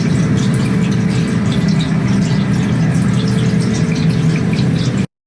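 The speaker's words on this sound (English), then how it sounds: "I'm hoping that the sound will tell you a little bit about what's going on inside the duct, because they'll hear a gurgling sound" Accumulated acid vapours gurgle inside fume hood ductwork, making a steady, loud, watery bubbling and rushing noise with fine dripping spatters. It runs unbroken for about five seconds and then cuts off abruptly.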